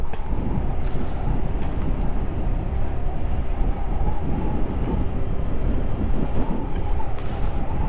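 Motorcycle ridden along a natural sandy beach on Karawang's north coast, a steady loud rumble mixed with heavy wind buffeting the microphone throughout, no talking.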